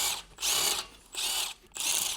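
A large electric impact wrench with a 19mm long socket removes the front wheel lug nuts on a Ford Focus ST, firing three separate rattling bursts with brief pauses between them.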